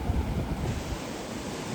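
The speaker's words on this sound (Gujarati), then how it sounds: "કેટલું પાણી આવે જોઈ લો." Water rushing through the opened gates of the Sukhbhadar dam, a continuous broad roar with a heavier low rumble at the start, steady and unbroken throughout.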